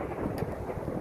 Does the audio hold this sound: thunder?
yes